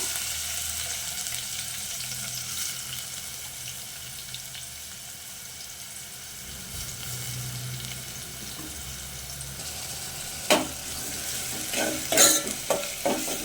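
Onions sizzle in plenty of hot oil for a tomato masala curry, a steady close frying hiss, with sharper stirring clatters near the end.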